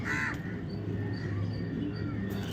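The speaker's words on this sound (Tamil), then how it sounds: "பக்கத்து காடில் காக்கா குருவியல் இயற்கை அளவு எவ்வளோ அழகாக சூப்பராக இருக்குது பாருங்கள்" Crows caw in nearby woods beside a rooftop garden, a few calls sounding at moderate distance over a steady low background hum.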